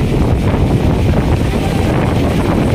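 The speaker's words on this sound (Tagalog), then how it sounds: "Kita nyo po yung mga lakas ng hangin" Strong gusting wind roars through trees and leaves outdoors in Manila ahead of a sudden downpour, a loud, dense, unbroken rumble buffeting the microphone.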